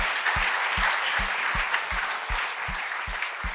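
A church congregation applauds for Jesus in a dense, sustained wash of clapping, with a regular low rhythmic thump pulsing beneath it.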